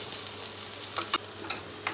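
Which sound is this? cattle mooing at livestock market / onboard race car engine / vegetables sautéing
vegetables sautéing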